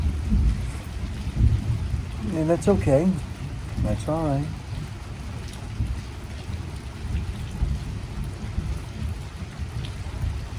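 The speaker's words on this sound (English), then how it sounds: "got another small storm passing through." A small thunderstorm passes over a farm barn, with steady rain pattering and a low rolling thunder rumble beneath it, while a person speaks briefly in the foreground.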